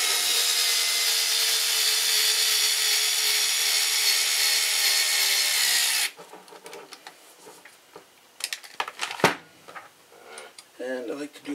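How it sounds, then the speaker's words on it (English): Power drill driving screws, a loud steady whine for about six seconds that stops abruptly, followed by quieter handling noises and brief clicks. "the drill feels the resistance, starts slowing down"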